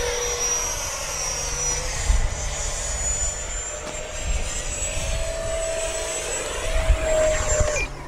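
An FMS Rafale RC jet fitted with a KMRC universal afterburner and RCG nozzles makes a low-power pass. Its steady turbine-like whine rises and sweeps across, loud and close, with no talking.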